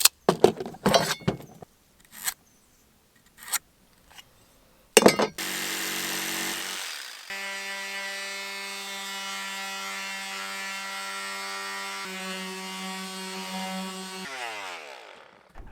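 Clattering and knocks of handling plywood, then a loud whining power tool runs steadily for several seconds cutting and sanding plywood before winding down.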